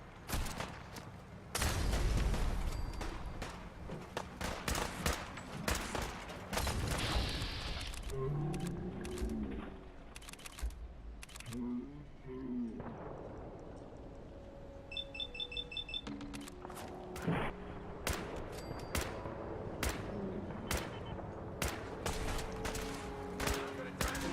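Gunfire in the video game Fallout 4: Far Harbor, with rapid cracking shots and bursts scattered throughout, mixed with shouting voices, creature noises and a few electronic beeps in a foggy battle.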